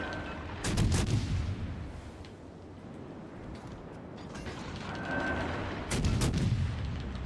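Naval guns firing in World of Warships Legends, two heavy booming salvos several seconds apart with rumbling tails, loud and close, separated by lower mechanical background noise.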